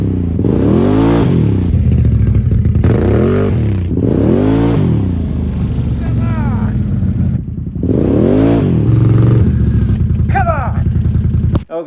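2022 Can-Am Outlander 850 XMR ATV in sport mode and low gear, engine revving hard in repeated rising bursts with clattering and scraping, close and loud, one brief drop-off partway through.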